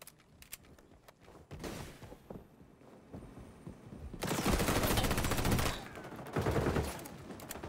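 Gunfire in the video game XDefiant: scattered single shots and footsteps give way to loud, sustained automatic bursts, the first long and a shorter one following after a brief pause.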